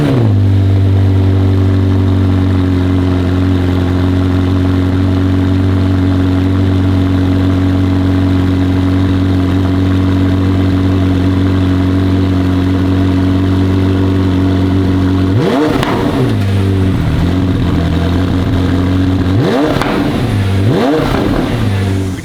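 A McLaren idles with a low, steady drone through a full titanium catback exhaust with flex pipes and an X pipe, then gets two sharp revs near the end, each rising and falling loudly and close by.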